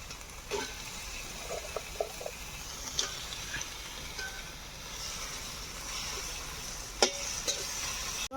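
Onions for crab perattu being stirred and fried in a pan, a soft steady sizzle with occasional clinks of the spoon against the pan, heard fairly close and quiet.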